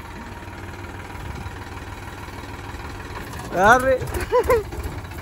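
A tractor engine idles and runs with a steady low rumble throughout, while voices shout briefly near the end over the drone.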